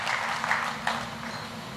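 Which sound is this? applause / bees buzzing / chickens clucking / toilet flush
applause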